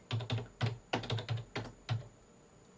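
A flat metal-rimmed computer keyboard is typed on in quick bursts, about a dozen crisp, close key clacks in uneven clusters with short pauses between them, alone in a quiet room.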